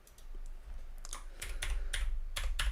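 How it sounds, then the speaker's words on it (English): Loud, clacky keystrokes in quick irregular bursts, close up, with a low hum underneath and no voices. "Loudest keyboard in the world, and you guys get to hear it"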